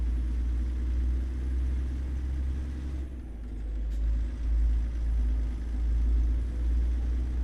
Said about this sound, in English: I love an accurate sound of highway traffic passing.